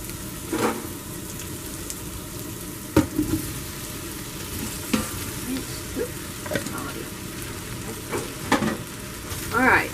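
Potatoes go into a hot sautéing pot for loaded potato soup and crackle in a steady, moderate sizzle, with scattered clatters and scrapes from stirring and handling throughout.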